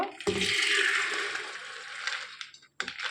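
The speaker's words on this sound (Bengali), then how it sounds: "এখানে আমি কুকার নিয়েছি কুকারে ডালগুলো সব ঢেলে দেব" Soaked lentils pour in a steady wet rush into a pressure cooker, a loud continuous splash for over two seconds, a brief pause, then a short final tip of grains and water.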